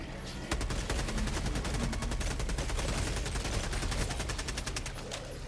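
Rapid automatic gunfire from a primary weapon in Helldivers 2, a dense, sustained burst of evenly spaced shots lasting several seconds, loud and continuous with little pause.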